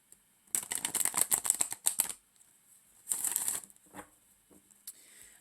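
A chakra healing oracle card deck is shuffled by hand in two bursts of quick, close riffling flutter, with a few light card taps between and after.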